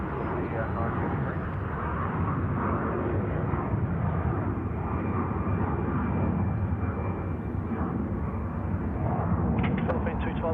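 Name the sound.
Boeing 717 airliner passing overhead at Sydney Airport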